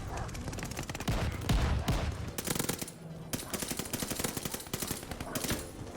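M1928 submachine gun firing in the video game Call of Duty Vanguard, heard as repeated rapid bursts of automatic gunfire at close range with brief pauses between them.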